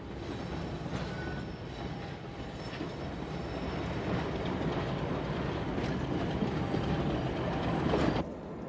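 An English Electric Class 50 diesel locomotive, a powerful British type from 1967, rumbles along steadily with continuous engine and rail noise, growing slightly louder toward the end before easing off.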